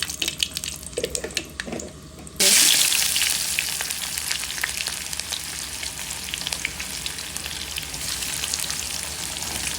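Hot oil sizzles loudly once panch phoron and dried chilli hit the pan for a sweet pumpkin fry, a sudden hiss that stays steady and dense, preceded by a couple of seconds of quieter clatter.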